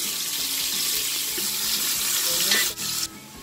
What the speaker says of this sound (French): Maintenant, dans la même huile, je mets les oignons et l'échalote.